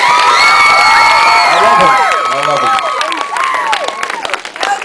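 A crowd at a beach festival bursts into loud cheering, whoops and high shouts mixed with clapping, voices rising and falling in swooping calls close by, with a brief spoken word at the start.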